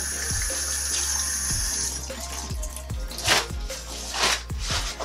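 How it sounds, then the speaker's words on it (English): Tap water runs into a sink as a spit bowl and toothbrush are rinsed during a nursing-assistant care task, a steady close splashing stream broken by a few sharper knocks and swishes of the bowl under the flow. "just pour the contents of your spit bowl into the sink, rinse it, and rinse the toothbrush as well."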